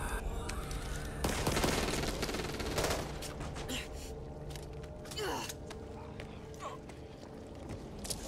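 Gunfire in a mature-rated action game, scattered rapid shots and bursts crackling over a noisy battle backdrop, with a voice calling out over the shooting.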